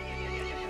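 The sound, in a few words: horse neighing in Resident Evil Village video game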